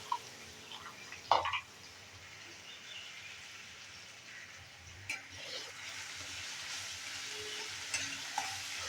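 Peanuts fry in a spiced tempering for phodnicha rajgira, a soft steady sizzle with scattered scrapes and taps of stirring, faint and close, with no talking.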